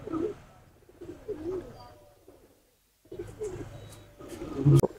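Large pigeons cooing close by in short, throaty bursts with pauses in between, a deeper flurry of coos toward the end, and a voice speaking faintly in the background.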